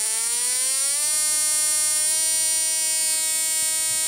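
An HHO ignition circuit emits a steady, high electronic whine with stacked harmonic tones, its pitch sliding upward toward about 1.7 kHz before holding level, constant and close.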